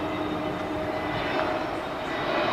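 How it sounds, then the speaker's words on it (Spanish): Airplanes fly overhead above an outdoor community farmers market, a continuous distant engine drone at moderate level with a faint tonal hum, no talking. "Miren, y los aviones ahí"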